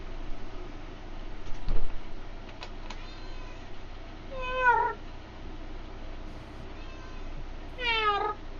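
Pet cat meowing to be let in, a few plaintive meows spread out over a low background hum, the loudest two near and clear, with faint thumps early on.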